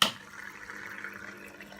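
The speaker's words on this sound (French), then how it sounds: "on entend la pompe qui se met en route, qui passe du bac là à celui-ci" A Cat Mate pet water fountain's pump starts up and sends water trickling from one basin into the other, a soft steady flow and light dripping that carries on evenly after a brief louder start.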